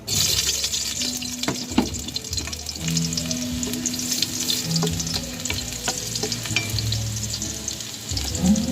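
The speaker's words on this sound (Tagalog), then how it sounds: "Init yung mantika natin mga idol. Lagay yung bawang." Garlic frying in hot oil sizzles steadily and close up, with scattered ticks and pops and the occasional scrape of stirring over a constant hiss.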